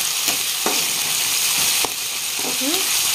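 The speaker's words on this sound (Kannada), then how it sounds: "ಆ ತರ ಇದನ್ನ ಚಲೋತ್ನಾಗಿ ಫ್ರೈ ಮಾಡ್ಕೊಂತ ಬೇಯಿಸ್ಕೊಳ್ಳೋಣ್ರಿ" Ginger garlic paste with onions sizzles and fries steadily in a pan, a loud continuous hiss broken by a few soft stirring knocks, with no voices.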